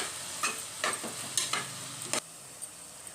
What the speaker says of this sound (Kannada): ಅದರ ಹಸಿ ಸ್ಮೆಲ್ಲು ಹೋಗುವಂತೆ ಸ್ವಲ್ಪ 1 ನಿಮಿಷ ಫ್ರೈ ಮಾಡ್ಕೊಳ್ಳೋಣ